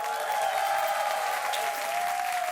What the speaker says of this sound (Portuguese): Vamos aplaudir nossa banda, Beto